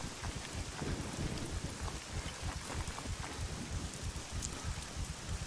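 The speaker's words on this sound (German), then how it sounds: "Und es blästert hier und gewittert." Steady heavy rain with thunder during a storm in the SCUM survival video game, a dense continuous wash of downpour and low rumbling that holds at an even level throughout, with no voices.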